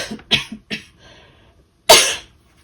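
A few short coughs in quick succession, then a pause and one louder, harsher cough up close. No talking.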